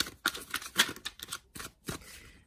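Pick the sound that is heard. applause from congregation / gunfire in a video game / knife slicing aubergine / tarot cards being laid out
tarot cards being laid out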